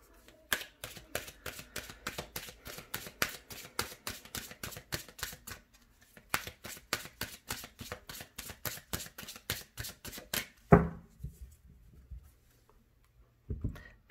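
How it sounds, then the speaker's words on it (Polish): Tarot cards being shuffled in rapid riffling bursts, two long runs of quick crisp flicks separated by a short pause, close and clear with no talking, then a soft tap near the end. "Tylko przetasuję karty."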